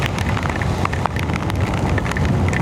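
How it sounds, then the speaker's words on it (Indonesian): Heavy rain pelting down during a motorcycle tour on the Pantura road in East Java, a loud, dense patter mixed with wind buffeting and engine rumble, steady throughout with no voices. "Wah ini hujannya makin deras teman-teman."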